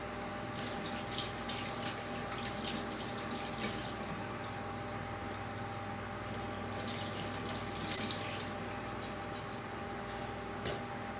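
Peppers being rinsed under a running kitchen tap: a continuous, moderately loud hiss of flowing water with brief splashy surges where the stream strikes the peppers, and no talking.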